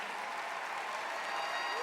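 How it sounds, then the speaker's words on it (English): An audience at the CUFI Summit 2019 applauds in a dense, even wash of clapping. The sound is steady and moderately distant. "Let's give him a round of applause."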